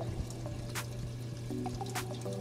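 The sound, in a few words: ICECAP auto top-off pump pumping water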